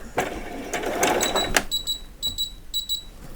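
A sewing machine on vet scrubs whirs through a short burst of stitching up close, then gives a series of high electronic beeps in pairs.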